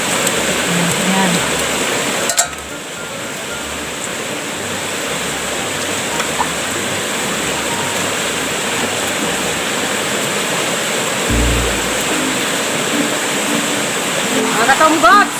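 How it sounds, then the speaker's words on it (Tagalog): A strong, muddy river running high after Typhoon Kento, rushing water forming a loud continuous roar near the listener, with a brief knock early and faint movement sounds toward the end. "malakas pang ilog, malabo pa, gawa nung bagyong Kento"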